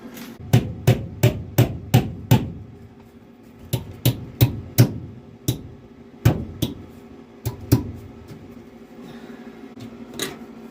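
Hammer driving a sheet-metal return air duct onto nails in home ductwork for a wood stove: sharp, close blows, a quick run of about seven strikes, then scattered single and paired hits after a pause.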